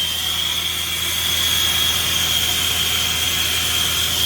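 A torch heats old solder on a bathroom sink drain pipe, a steady loud roaring hiss with a thin high whine running through it, continuous and close, with no talk.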